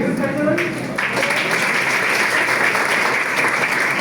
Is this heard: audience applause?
yes